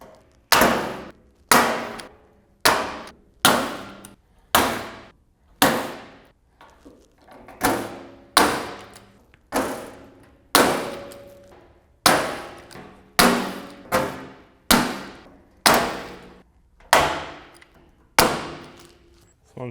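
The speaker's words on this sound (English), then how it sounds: "start in the center and work my way out from each side and just rivet every hole" Rivets being set one after another to fasten a drag wing adjuster to the main wing deck of a 1st-gen square-body Chevy S10, roughly twenty sharp, close metallic bangs in a steady rhythm, each with a short ringing decay.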